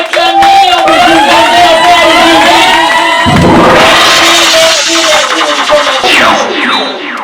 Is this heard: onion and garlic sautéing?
no